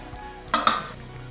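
A metal plate lid is set down over a pan of steaming bhagar khandvi batter, giving two quick, close metallic clinks in a quiet kitchen.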